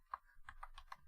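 Typing on a computer keyboard: four or five quick, crisp keystrokes close up, fairly quiet, with no voice over them.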